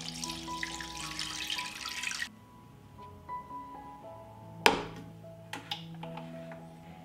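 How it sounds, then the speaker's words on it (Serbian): Tap water runs steadily into a pot for boiling 500 grams of chicken fillet, then stops after about two seconds, followed by a few sharp metallic clinks and knocks in a quiet kitchen. "I nalit ću vodu."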